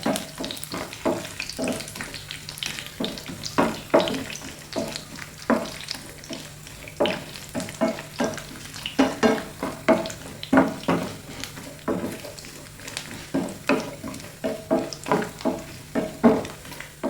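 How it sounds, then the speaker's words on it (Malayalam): Coconut pieces fry in hot oil in a pan with a steady sizzle, broken by repeated sharp scraping and stirring strokes close to the microphone. "ഇനി നമുക്ക് കുറച്ച് തേങ്ങാക്കൊത്തൊന്ന് വറുത്തെടുക്കണം"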